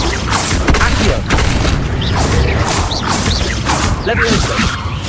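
The Accio summoning spell is cast in Hogwarts Legacy, with magical whooshes, rumbling booms and mechanical clatter layered loudly over dense game background sound.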